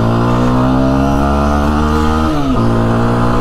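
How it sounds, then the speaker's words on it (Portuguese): A 2023 Dafra Apache RTR 200 motorcycle engine holds a loud, steady harmonic drone close by, dipping briefly near the end before settling back to the same pitch, with no voices. "vamos lá dar aquela acelerada e ver o que essa moto realmente é capaz"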